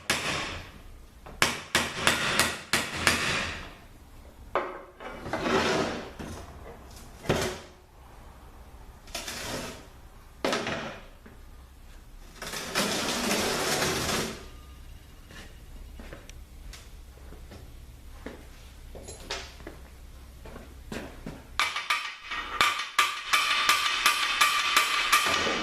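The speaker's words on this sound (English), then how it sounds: "here's this small hammer to knock it back" A small hammer knocks at a badly rusted snap ring inside a Ford Escape/Mazda Tribute automatic transmission during teardown: bursts of rapid sharp metallic taps, close and loud, with clinks and shuffling of parts between bursts.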